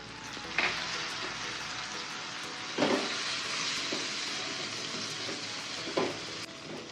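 Onion and garlic fry in a pan with tomato, a continuous close sizzle broken by three sharp scrapes of a stirring spoon, with no talking.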